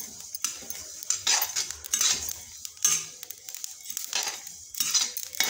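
Whole spices for chaat masala dry-roasting in a pan while a spoon stirs them, giving irregular scraping, rattling and clinking bursts, close and moderately loud, with no voices.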